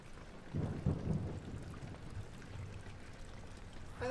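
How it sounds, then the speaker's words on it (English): Steady rain patters and hisses on a surface, with a soft low rumble of thunder early on. "I think it's raining in your house a little"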